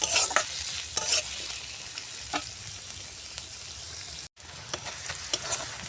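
Onions fry in a pan for a masoor dal mash, a continuous sizzle broken by scraping stirs, close and steady with a brief cut partway.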